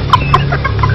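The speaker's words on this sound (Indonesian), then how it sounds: "Ayam, ayo makan dong." Chickens being fed, giving short clucks in a quick burst, close and loud over a steady low background hum.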